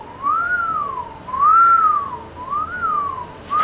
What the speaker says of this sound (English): It's a whistling sound.